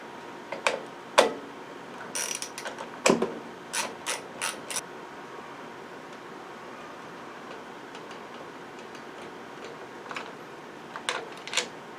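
Screws are backed out of a lawnmower carburetor with a ratchet, quick sharp clicking bursts scattered over a quiet background, clustered at the start and again near the end.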